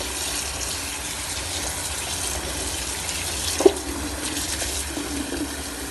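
Water runs steadily from a tap in a kitchen while fresh okra is washed under it, a continuous close gush with a faint clunk partway through and no voices.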